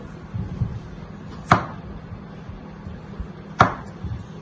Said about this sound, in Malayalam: നമുക്ക് ഇവനെ നീളത്തിൽ അരിഞ്ഞെടുക്കാം.